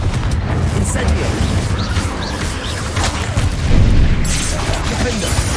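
Confringo and Incendio spell explosions in the game Hogwarts Legacy on hard mode, a dense run of booms and crashing blasts over a constant loud battle din, with a voice shouting in between.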